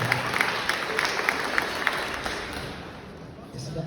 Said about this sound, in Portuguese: Palmas para Silvina